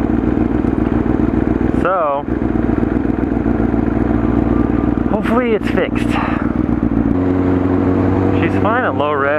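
A 900cc motorcycle engine idles loudly and steadily with a coarse, uneven rumble, running badly at higher revs, briefly revved a few times, while someone speaks over it.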